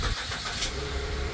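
Holden VE Commodore engine turning over and catching after an oil and filter change, a steady close mechanical rumble running throughout with no voices.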